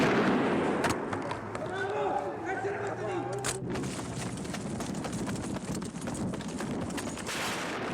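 Bursts of rapid gunfire ring out on a Tehran avenue during 1978 street protests, sharp cracks scattered over a loud, busy crowd din that carries on after the shots.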